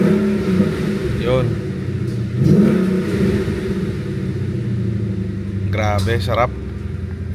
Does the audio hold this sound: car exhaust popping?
yes